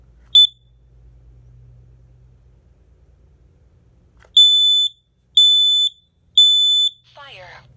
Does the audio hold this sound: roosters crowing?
no